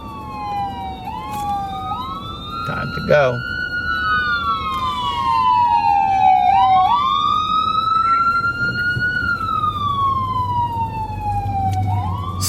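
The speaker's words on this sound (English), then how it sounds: "They're coming after me, those sirens." Emergency vehicle sirens wail on a New York street, rising and falling in long sweeping tones that loop over and over, loud and fairly close over traffic rumble, with a short burst of another siren and a brief spoken line.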